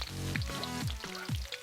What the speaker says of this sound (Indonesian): Lanjut masukin cabai rawit, cabai merah, dan tomat.